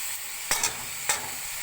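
Chicken steak fries in a pan with a steady bright sizzle, punctuated by two or three quick utensil scrapes or clinks, close and without speech.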